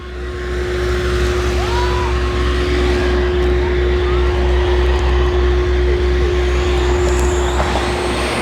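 Motorcycles with missing silencers during a kanwar pilgrimage gathering, a loud continuous engine drone with a steady hum and traffic rumble, close and unbroken, with no talking.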